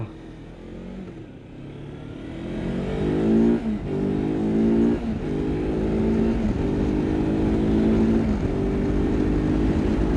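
A Kawasaki Versys-X 300 motorcycle engine accelerates hard on a Singapore ride. Its loud, close, rising drone climbs through several gears, with brief dips at each shift.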